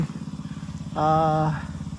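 A small engine-driven water pump runs at a roof deck slab construction site in Subic, chugging in a rapid, even idle rhythm close by, with a brief humming tone rising over it midway.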